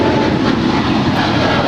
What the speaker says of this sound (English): this is ANA Flight 5 heading back to Tokyo Narita, 777-300ER